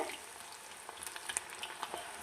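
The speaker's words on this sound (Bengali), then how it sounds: "এইভাবে আপনারা অল্প অল্প করে ভেজে নেবেন তাহলে চিকেনগুলো খুব সুন্দর এরকম ভাজা হবে" Chicken pieces for chilli chicken shallow-batch frying in hot oil, a soft, steady sizzle with scattered crackles and pops, fairly quiet and with no voices.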